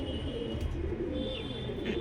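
A Safed Asil Gola high flyer pigeon, a female from a breeding pair, coos softly and steadily under low background rumble, with no talk.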